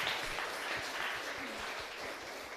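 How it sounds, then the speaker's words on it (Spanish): Applause from the congregation fills a chapel during a live Catholic Mass, a sustained even wash of many hands clapping throughout. "un fuerte aplauso para todos ustedes"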